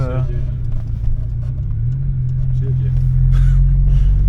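A Fiat Uno Turbo ie drives along with its engine running, a steady low rumble that builds slightly toward the end, heard from inside the car while someone talks over it.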